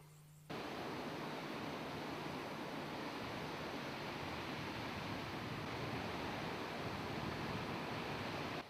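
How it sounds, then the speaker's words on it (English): A waterfall at Moongool Gorge in the Kimberley pours in a constant, dense broadband rush that starts abruptly and holds steady and fairly close throughout. "Another day in the Kimberley, another magnificent waterfall."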